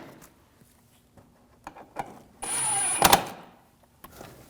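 A power tool runs in a single burst of about a second, snugging down bolts during an auxiliary water pump replacement on a 2006–2009 Audi S4, surrounded by faint clicks and handling noises.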